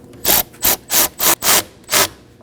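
Six short rasping ratchet strokes snug the positive battery terminal clamp on a 2017-2024 Nissan Armada, close and evenly paced with brief gaps, no voices.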